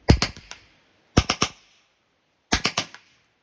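A 2005 Bakail Drodz CO2 BB gun fires in three quick bursts of about four sharp cracks each, loud and close, with brief pauses between bursts.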